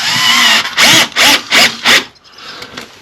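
A power driver sinking short 25 mm screws into a floor during a downstairs toilet renovation, with several rapid, loud whirring bursts in quick succession, each rising in pitch as the screw bites, then a quieter rattling tail.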